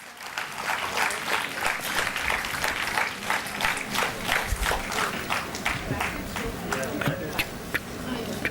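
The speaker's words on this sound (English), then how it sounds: "With a big round of applause" A conference audience at Guru Nanak College, Chennai, breaks into sustained applause, many hands clapping in a dense, even patter that carries on steadily throughout.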